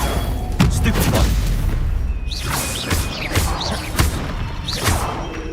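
The Stupefy stun spell cast in Hogwarts Legacy during combat: repeated loud booms and whooshing magical blasts with sweeping tonal swirls, layered over dense ongoing game noise.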